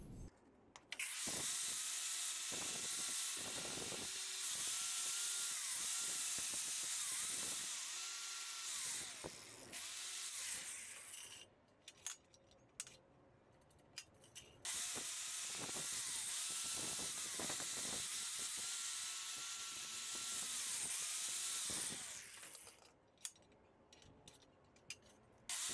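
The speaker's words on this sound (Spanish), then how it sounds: "vamos a pulir esta pieza en este tornillo de banco para ver qué tanta sujeción tiene sobre una pieza redonda" A power tool polishes a round piece clamped in a Truper or Pretul bench vise, whirring loudly in two long bursts with a pause between, and short rattling contacts at the start and at the stops.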